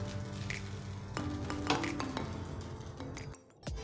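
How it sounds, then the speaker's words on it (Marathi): Spoon stirring lemon rice in a pan after the gas is switched off, steady scraping and soft clinks with a few sharper metallic taps, close and continuous with a brief quiet dip near the end. "आता मी भात मिक्स करून घेते"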